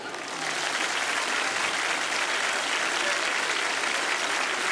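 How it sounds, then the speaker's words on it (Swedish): Steady audience applause at a magic show swells in after a brief quieter start, then holds as a uniform dense clatter of many hands, fairly distant and moderate in level. "Ja, ge en applåd."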